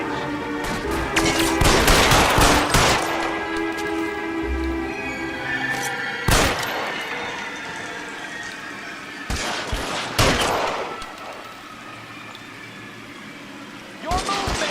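Gunfire in an L.A. Noire shootout, with sharp broadband shots in bursts, a heavy volley near the start and isolated loud cracks later, heard under tense spoken dialogue and background score.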